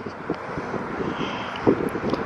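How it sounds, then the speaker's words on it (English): Wind gusting outdoors around a parked Honda S2000 on a sunny day, a steady broad rushing roar buffeting the microphone, with faint scattered bumps and no speech. "It's very windy."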